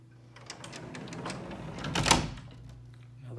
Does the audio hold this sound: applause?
no